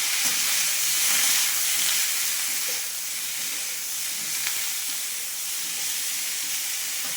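Okra sautéing in a pan with curry leaves and asafoetida, a steady dense sizzle and hiss that holds throughout with slight swells, close and continuous with no talk.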